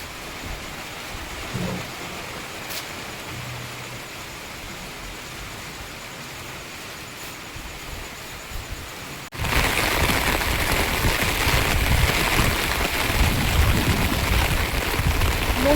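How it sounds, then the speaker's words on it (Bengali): Heavy pouring rain falls at dawn beside water where people are fishing. It makes a steady, dense hiss that suddenly grows much louder and fuller partway through, and no one speaks. "মুষলধারে বৃষ্টি হচ্ছে"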